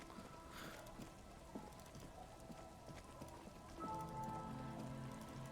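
Rain in the video game Disco Elysium falls as a quiet, steady patter with scattered drips and soft tapping, joined near the end by a faint sustained musical tone.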